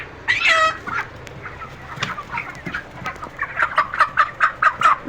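Brown chickens cluck and chatter in a steady stream of short, close calls, with a few louder squawks early on and a quicker run of clucks near the end.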